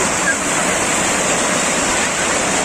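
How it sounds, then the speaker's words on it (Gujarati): A heavy, steady roar of rushing river water fills the air at a crowded bathing ghat, loud and close with no break, a broad wash of noise. "પાણી તમે જોઈ રહ્યા છો પાણી કેટલું જઈ રહ્યું"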